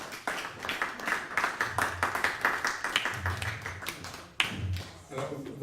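Audience applause in a lecture hall, dense steady clapping from many hands filling the whole stretch without a break, with a brief dip near the end before it carries on.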